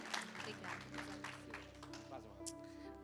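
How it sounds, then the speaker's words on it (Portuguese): Cheerful clapping from a church congregation welcoming a speaker, a rhythmic run of claps heard faintly under continuing speech and background music. "Receba a serva de Deus com palmas bem alegres, Senhor Jesus"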